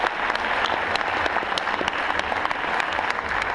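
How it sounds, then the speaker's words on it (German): At an integration evening in Bottrop, an audience applauds the commission with sustained, dense clapping that fills the room evenly from start to finish. "noch ein Applaus für die Kommission"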